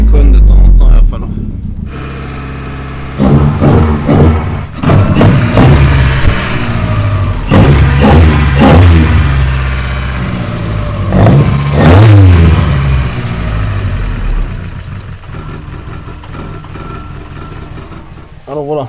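Car engine with individual throttle bodies, freshly autotuned at idle, running while someone talks over it, broken by several sharp blips of revving and squeals between spoken passages.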